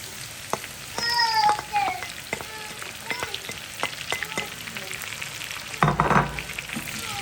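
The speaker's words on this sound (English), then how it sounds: "You want to fry the meat until it starts to get a little brown like this" Meat and onions fry in a pan with a constant soft sizzle, broken up by repeated clicks and scrapes of stirring and a louder burst of sizzling near the end.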